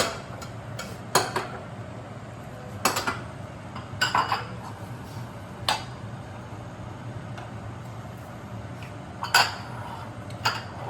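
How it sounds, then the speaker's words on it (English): Bowls are set out for a lunch of chicken bamboo vermicelli (bún măng gà), making scattered light clinks and clatters of dishware on a counter over a low steady hum, with no speech. "I go get the bowls ready for lunch"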